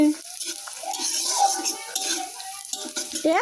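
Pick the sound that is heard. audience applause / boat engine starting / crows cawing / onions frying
onions frying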